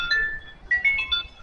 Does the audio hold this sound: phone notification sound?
yes